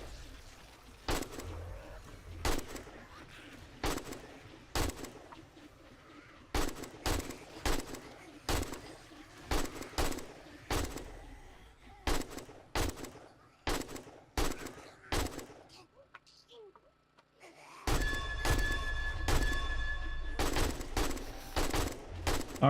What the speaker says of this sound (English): I'm shooting right through them and hitting the ones behind.